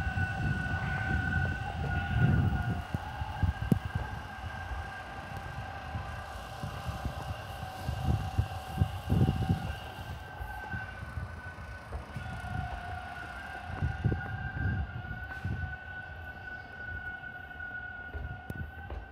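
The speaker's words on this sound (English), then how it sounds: "Oh, that train says out of service." An out-of-service train in Toronto passes with a steady rumble and a sustained tonal whine, while clanks and low knocks rise and fall in the background.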